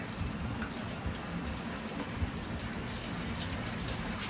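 Water pours and splashes over a soapy toy car during washing, a faint continuous trickling gush with no voices.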